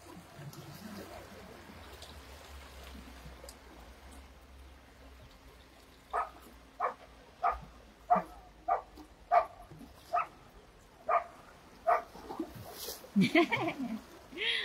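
A dog barks about a dozen times at a steady, even pace, fairly close, at a beach over soft running water and faint background voices.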